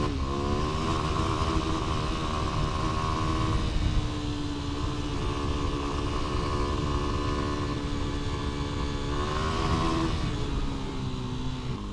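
A 2025 Kawasaki KLX 300 dual sport motorcycle engine hums steadily at close range while riding over broken asphalt, with throttle rising and easing in smooth waves and wind noise underneath.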